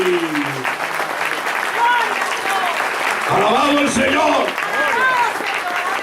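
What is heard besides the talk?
congregation applauding loudly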